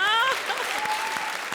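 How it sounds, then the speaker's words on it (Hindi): Loud audience applause on a comedy stage show, dense clapping with a few cheers, starting at full strength and continuing steadily throughout. "जोरदार तालियां"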